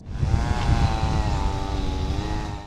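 Aircraft over a wildfire where helicopters and air tankers reinforce fire lines, a steady droning engine and rotor hum, fairly loud and close, rising and fading slightly.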